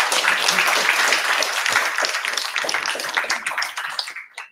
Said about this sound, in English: a round of applause for Regina for her talk